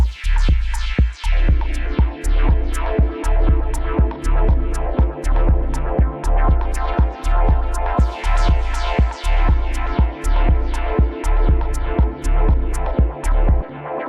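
A looping ambient dub techno polyrhythmic percussion sequence of sharp, evenly driven hits layered in shifting, offset rhythms on an odd loop length, loud and close, running continuously without any voices.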